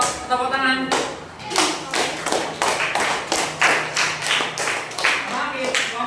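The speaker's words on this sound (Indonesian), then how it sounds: "Bapak tepuk tangan." A classroom group claps hands in a series of sharp, rhythmic bursts of about a dozen claps, close and fairly loud, with a voice briefly audible at the start.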